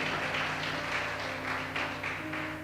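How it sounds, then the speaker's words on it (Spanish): Church audience applause, a steady wash of many hands clapping in rhythmic pulses, moderately distant with a low hum beneath. "Denle un aplauso fuerte a Cristo."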